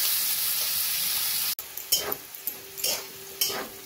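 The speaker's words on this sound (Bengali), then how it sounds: "সব কিছু দিয়ে ভালো করে একটু ভাজা ভাজা করে নেব।" Chopped onion, capsicum and green chillies sizzle in a hot pan with a steady hiss. A sharp clack and then several short stirring scrapes follow, close and fairly loud, with no one talking.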